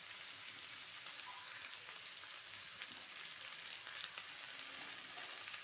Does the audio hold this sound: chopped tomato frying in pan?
yes